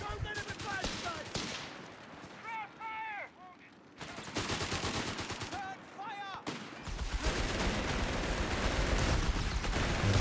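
Strafing run gunfire in Company of Heroes 3, a 2v2 match, with dense rapid machine-gun bursts and volleys crackling across the whole stretch, broken by brief gaps with whistling incoming shells, loud and continuous.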